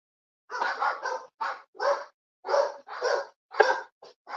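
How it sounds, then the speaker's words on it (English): Indoor dogs bark at a noise outside, firing off a run of about a dozen sharp, close barks in quick bursts with short gaps between them. "The dogs hear any kind of noise outside and they go off"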